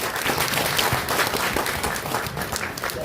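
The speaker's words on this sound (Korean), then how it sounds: "여러분 박수 한번 주십시오." A roomful of residents at a redevelopment briefing gives loud, continuous applause, a thick, even wash of many clapping hands that holds steady from start to finish with no voices.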